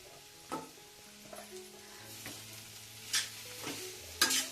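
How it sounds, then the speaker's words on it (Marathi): Beetroot halwa with jaggery is stirred in a pan, giving soft scraping strokes at irregular intervals over a faint low sizzle, heard quietly without talk. "आपल्याला फक्त ह्याला थोडं थोडं परतत राहायचंय जेणेकरून हे गूळ जे आहे ते लागू नये भांड्याला"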